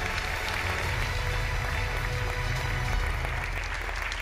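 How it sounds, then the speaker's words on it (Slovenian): Students applaud during a class photo at a school event, giving a steady, dense wash of many hands clapping that holds at an even level throughout. "Nasmešek in aplavz!"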